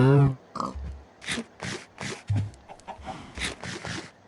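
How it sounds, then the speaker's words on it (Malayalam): On a farm, a piglet gives a string of short, close grunts in uneven bursts, with a louder squeal at the very start. "അതാ പന്നിക്കുട്ടി."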